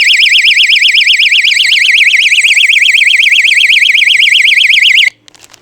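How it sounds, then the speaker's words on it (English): A doorstop alarm blares a loud, rapidly warbling electronic tone continuously for about five seconds, then cuts off abruptly into near silence. "to use this as an alarm, a doorstop alarm like it's meant to be"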